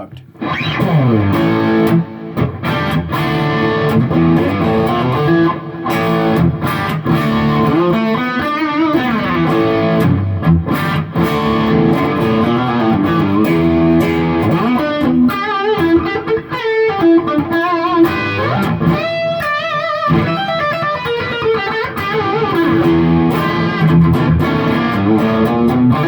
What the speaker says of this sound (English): Bridge position, fully humbugged.